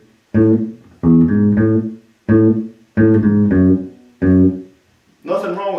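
Electric bass guitar plucked with the fingers, playing a bassline: six bright, sustained low notes in a loping rhythm with short gaps, close and clear, no talking.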